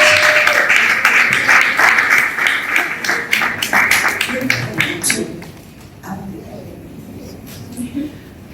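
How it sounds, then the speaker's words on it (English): Applause from a crowd at a formal tribute event for former presidents, dense and loud at first, then thinning into scattered claps as murmuring voices take over. "I think you can do a big round of applause in that."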